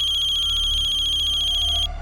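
A telephone rings with a bright, pulsing electronic ringtone, steady and fairly close, before it cuts off abruptly.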